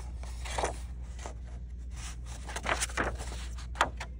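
Scissors cutting out paper for a collage, a run of short crisp snips and rustles spaced irregularly over a steady low hum, close and fairly quiet, with no talk.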